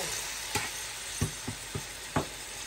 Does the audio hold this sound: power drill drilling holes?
no